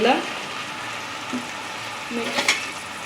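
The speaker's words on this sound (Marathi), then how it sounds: "आता आपण मेथीची भाजी टाकली आहे." Fenugreek leaves go into a hot pan and fry with a soft steady sizzle, joined by a few light clinks and scrapes of stirring up close.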